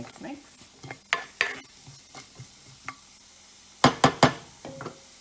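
Onions and pasta sauce cook in a pan, a soft sizzle beneath scattered clinks and scrapes of a utensil stirring, with a burst of three quick, louder knocks against the pan near the end.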